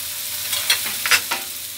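Bombay duck fish frying on a hot plate, a close crackling sizzle with a few sharp bursts of spitting oil over a steady hiss.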